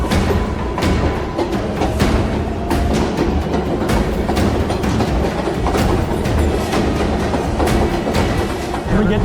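A New York subway train rumbles along the tracks with a steady clickety-clack of wheels over rail joints, loud and close throughout.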